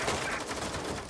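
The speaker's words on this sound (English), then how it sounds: "Gunfire!" Rapid gunfire in the video game Watch Dogs: Legion, a short dense burst of shots close and loud with no voices over it.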